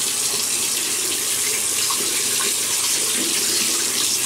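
Steady tap water runs into a sink close by, a continuous broadband splash for several seconds as a face is wetted before a shave, with no talking.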